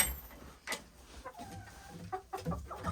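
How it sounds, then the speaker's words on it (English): Backyard chickens cluck softly inside their insulated winter coop in extreme cold, giving a few scattered close calls over a low background, with no talking. "So here's the chickies"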